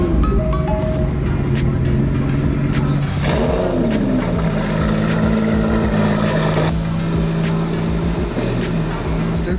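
A 2017 Aston Martin DB11 engine starts up inside a workshop, firing with a loud roar that settles into a steady, rumbling idle before the revs rise and fall again.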